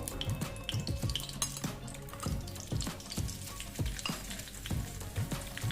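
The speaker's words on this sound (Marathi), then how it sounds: "आणि छान असं लालसर होईपर्यंत भाजायचं" Amaranth flour (rajgira) roasting in plenty of ghee in a pan for shira, giving a steady close sizzle broken by rhythmic scraping and stirring knocks against the pan, with no talking.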